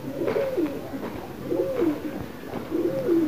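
A caught pigeon coos in three soft repeated phrases, close and clear, with a steady rhythmic rise and fall and light background hiss.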